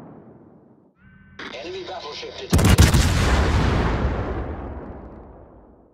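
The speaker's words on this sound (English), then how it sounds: "Concentrate fire on that enemy warship." Naval artillery in a warship combat game: a close, heavy salvo bursts out about midway and rolls into a long, slowly fading rumble, preceded by quieter mechanical and tonal game sounds.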